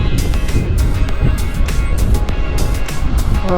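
A Royal Enfield 350 motorcycle, a Classic 350 or Meteor 350, rumbles with a steady, bassy exhaust note while being ridden, mixed with continuous wind and road noise for the whole stretch.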